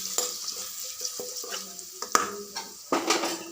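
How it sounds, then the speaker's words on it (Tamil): Salted egg sizzles in a frying pan while a utensil stirs it, with soft scrapes and occasional clinks against the pan over a quiet, steady frying hiss. "போட்டு நல்லா கிளறணும்."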